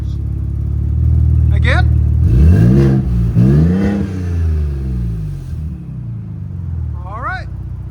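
A Ford Raptor engine revs hard through aftermarket exhaust mufflers, rising and falling in a loud, deep surge over a steady low idle rumble. Voices talk briefly at the start and end.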